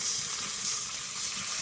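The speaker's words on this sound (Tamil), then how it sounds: "புளி தண்ணி வந்து நம்ம ஊற்றிக்கலாம்" Tamarind water pours steadily into a pan of Tamil Nadu style fish curry, a continuous close liquid splash and trickle with no speech.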